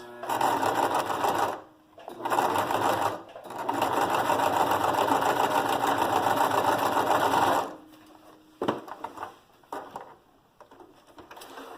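Close sewing machine stitching box pleats, running in long steady whirring bursts with short stops between them, then a few quieter clicks and brief spurts at the end.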